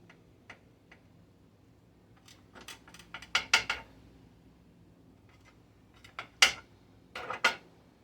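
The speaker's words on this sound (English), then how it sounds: "let me get a knife and cut this" A knife saws and taps through a chicken salad sandwich on a plate, several sharp clicks and scrapes bunched in short bursts, fairly close and quiet, with no talk.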